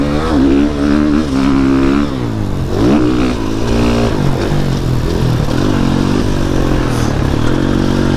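A 2021 GasGas MC450F dirt bike runs loud and close throughout, its engine rising and falling in pitch as it revs and accelerates through gears during a ride.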